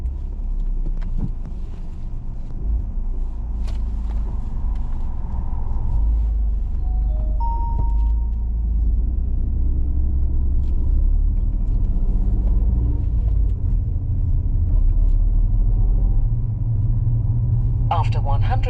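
A learner's car on a driving test pulls away and drives on, with a low engine rumble and road noise running steadily and close, while an examiner and driver speak over it now and then.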